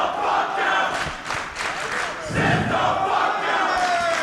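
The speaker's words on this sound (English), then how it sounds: "The crowd wants to see it." A wrestling crowd at a live match shouts and chants in loud, surging waves throughout.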